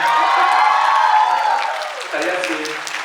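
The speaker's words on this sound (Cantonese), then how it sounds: "都俾啲掌聲。" Applause and cheering fill the hall at a fan club's 33rd anniversary gathering for a singer, loud and sustained at first, then easing off as crowd voices carry on underneath.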